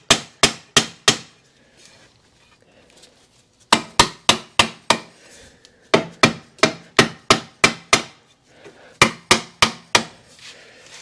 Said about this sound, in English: take a rubber mallet and just kind of give this